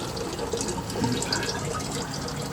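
Engine oil pours from equipment into a nearly full drain pan, a soft, continuous liquid trickle and splash heard close and alone.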